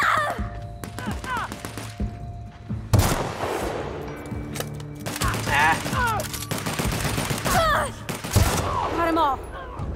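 Shotgun blasts in The Outer Worlds, sci-fi video game combat: several sharp, booming shots spaced a few seconds apart, set against a steady game soundscape with other combat effects.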